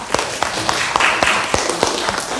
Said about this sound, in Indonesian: Tepuk tangan buat Faisal.